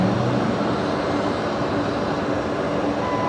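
Qantas flight 628 from Melbourne arriving at Brisbane Airport: a broad, steady engine roar and rumble that holds constant throughout, heard from a distance without talk.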